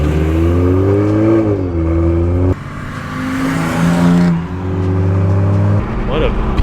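A BMW M3 or Toyota Supra sweeps past with engine notes rising and falling through revs, loud and close, while a person talks over it.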